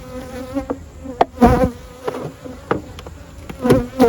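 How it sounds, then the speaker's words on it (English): Honey bees buzzing close by at a hive, a steady drone with individual insects swooping past in louder bursts, no voices. "Bees."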